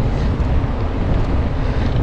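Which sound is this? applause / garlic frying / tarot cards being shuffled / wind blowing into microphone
wind blowing into microphone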